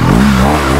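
A motorcycle engine revs hard as the rider lets out the clutch and accelerates, a loud, steady, close mechanical roar with a rising pitch that fills the whole short moment.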